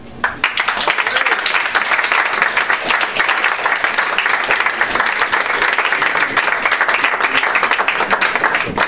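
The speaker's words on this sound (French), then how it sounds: "on applaudit encore une fois, mesdames et messieurs" Enthusiastic audience applause after a poetry reading at an autumn poetry event, a loud, continuous stretch of many people clapping lasting several seconds, with scattered voices beneath.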